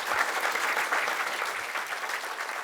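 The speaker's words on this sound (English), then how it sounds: "Could you please give a round of applause for our amazing panelists" An audience applauds the panelists at a TikTok business event in New Zealand, a steady, dense round of clapping from a crowd that holds evenly throughout.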